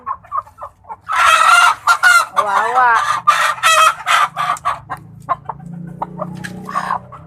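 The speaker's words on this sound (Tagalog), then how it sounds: "Huli tayo ng manok muna, pang ulam." Chickens cluck and a rooster crows loudly and close by, mixed with brief speech and continuing bird calls throughout.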